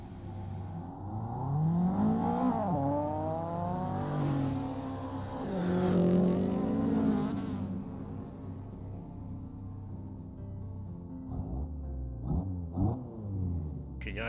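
A Mazda RX-7 FC rotary engine drives in the Assetto Corsa racing game, its steady low engine drone rising and falling with revs across the whole stretch, then settling lower with a few brief bursts near the end.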